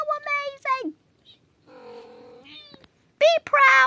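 Young kittens give several high, wavering meows in short bursts, close by, with brief quiet gaps and a person's voice speaking softly between them.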